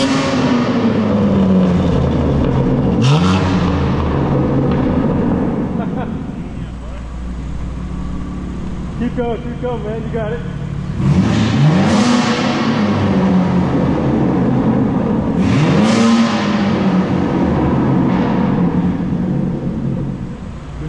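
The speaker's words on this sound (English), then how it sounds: "now rev. That'll put the burbles on." 2024 BMW M4 idling with a deep rumble and blipped three times into sharp rising revs, exhaust valves open for burbling crackle as the note falls back, people chatting nearby between revs.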